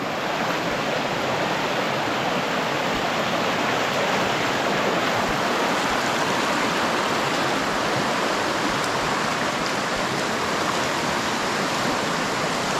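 A clear provincial river rushes along in a steady, broadband wash of flowing water, close and unbroken throughout, with no talking.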